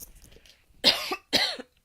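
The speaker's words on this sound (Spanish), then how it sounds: "Disculpe que a lo mejor a veces tose" A woman preacher gives two strong, close coughs in quick succession, each a harsh burst after a quiet pause, with no speech around them.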